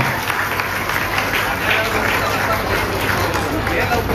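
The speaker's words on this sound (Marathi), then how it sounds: "जोरात टाळ्या जरा अंगठीसाठी जोरात टाळ्या." Applause at an engagement ceremony for the ring, a dense wash of clapping from a gathered crowd, with chatter and voices mixed in throughout.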